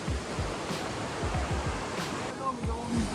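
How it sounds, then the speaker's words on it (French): Rushing water pours continuously down the cascades of a Croatian waterfall, a dense, steady roar close by and filling the whole scene, with faint low thumps beneath it. "avec le bruit de l'eau qui s'achemine au fil de la descente, nous n'entendons pas grand chose"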